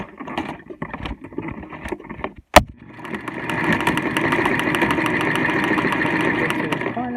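A sewing machine stitching around the edge of a fabric face mask: a few quiet handling taps and a sharp click, then a steady, continuous motor whir with a rapid needle chatter that holds to the end.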